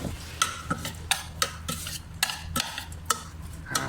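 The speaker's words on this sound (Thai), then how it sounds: "เดี๋ยวคนนะครับ" Spoon and utensils clatter against a bowl as raw beef koi salad with herbs is tossed and mixed, a run of sharp, close clinks and scrapes repeating every half second or so over a quiet kitchen background.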